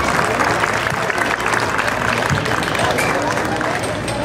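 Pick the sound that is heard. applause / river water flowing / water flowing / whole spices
applause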